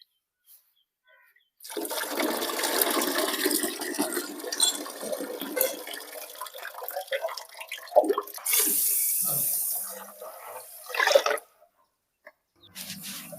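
Ragi grains being washed and swished in water, a sustained splashing, pouring and sloshing run with gurgles and drips, close and moderately loud, stopping briefly before a final splash.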